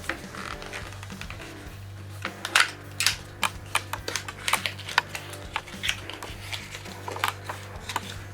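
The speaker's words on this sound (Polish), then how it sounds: "Otwieramy pudełeczko." A small cardboard box holding a Xiaomi Mijia Wiha 24-in-1 precision magnetic screwdriver set is opened close by, giving a run of sharp clicks, taps and crinkles with a few louder snaps over a low steady hum.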